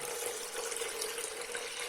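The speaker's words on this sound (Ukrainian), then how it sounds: "я промила чуть, додаю води" Water pours steadily into a container of soaked wheat with a continuous splashing rush.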